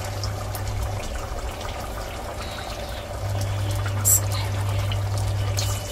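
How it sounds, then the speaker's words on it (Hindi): Water pours steadily into a cooking pot on a high gas flame while Arabian mazboos pulao is being made. The pour is a continuous, close trickling wash lasting about six seconds, under a low steady hum, with no talk. "और पानी डालूंगी अभी"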